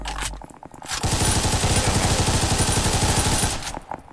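Scoped SMG fire in the Ragdoll Universe video game: a loud, unbroken rapid-fire burst lasting about two and a half seconds, with quieter clicks and handling noise just before and after.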